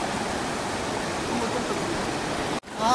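Cold river water rushing steadily over stones in Arunachal Pradesh, a dense, constant close roar that cuts out briefly near the end before resuming.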